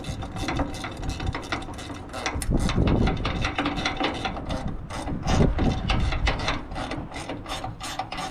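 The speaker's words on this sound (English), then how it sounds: "That's where these ratcheting wrenches are really kind of handy" Rapid mechanical clicking of a ratcheting wrench tightening bolts on a 1955 Triumph TR2 rear bumper, repeated in bursts of quick strokes with some rustling in between, close and fairly loud.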